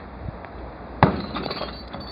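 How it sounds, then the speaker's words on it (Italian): A single sharp glass bottle crash lands midway, its bright shattering burst trailing off into a few faint tinkles over a low background hum. "Questo è vetro."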